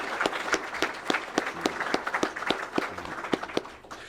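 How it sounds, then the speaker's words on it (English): A modest audience at a county Republican candidate forum claps for a guest, individual hand claps distinct and fairly sparse in an uneven rhythm, thinning out toward the end. "So a round of applause,"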